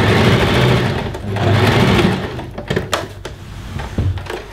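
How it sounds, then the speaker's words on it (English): Close and loud, a domestic sewing machine hums in continuous bursts while stitching straight across a seam of a simple sleeveless dress, then slows into fainter, irregular clicks and handling knocks. "I very carefully hold it together and sew straight across"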